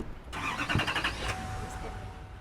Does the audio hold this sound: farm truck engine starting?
yes